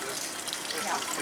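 Spring water runs steadily from a public drinking fountain in Rome, a close, continuous splashing gush with no break.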